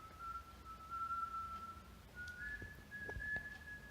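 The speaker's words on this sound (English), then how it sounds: "And he starts whistling so cold." A character in The Wire whistles a cold, steady tune, two long sustained notes with a slight step up in pitch, faint and thin over low background noise.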